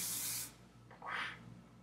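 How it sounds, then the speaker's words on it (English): Hair spray misted onto hair in two short hissing bursts, the first about half a second long, then a brief pause and a second, slightly softer spritz, close and clear with no talk. "I like to just like spray this all over my hair"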